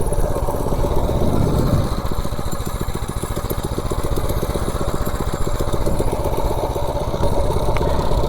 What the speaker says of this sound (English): 0 to 30 with a totally stock Predator 212 with a governor bypassed and the stock timing.